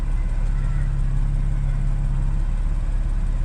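A warmed-up Porsche Cayman S 987.2 with PDK and PSE sport exhaust idling steadily, a deep, continuous, close rumble whose low hum shifts subtly partway through as the exhaust mode changes.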